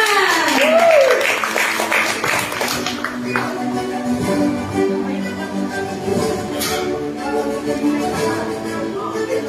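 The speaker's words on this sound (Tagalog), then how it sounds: "Palakpak naman dyan!" Applause at an online recognition ceremony, a sustained wash of hand clapping mixed with voices and background music, fairly loud and continuous.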